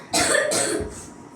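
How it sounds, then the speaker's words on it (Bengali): A boy recovering from a fever coughs twice in quick succession, close and loud, followed by a softer trailing breath. "তোর এখনো কাশি কমেনি?"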